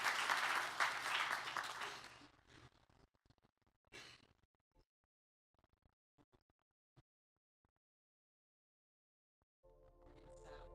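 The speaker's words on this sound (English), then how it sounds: "So just a quick round of applause for Reese and John and Justin and everybody." Brief applause from an audience at a cyberpunk franchise reveal event, a couple of seconds of clapping that quickly dies into near silence with scattered faint noises, before music-like tones enter at the end.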